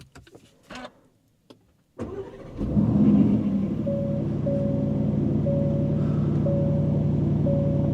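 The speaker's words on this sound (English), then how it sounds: "the 4-liter V8 roared to life" A few faint clicks and a pause, then a 2025 Aston Martin Vantage's 4-liter V8 cranks and catches with a rising roar before settling into a loud, steady idle rumble.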